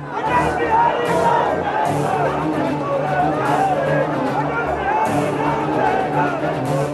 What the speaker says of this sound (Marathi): यात तुम्ही अटल बिहारी अमर रहे असा अटलजींचा जयघोषही ऐकू शकता